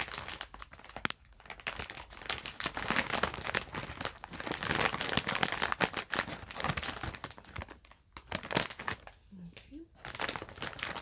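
Scissors cut open a plastic candy bag of Starburst-type sweets, with loud, continuous close-up crinkling and rustling of the plastic, a few brief pauses, and faint tearing at the edges.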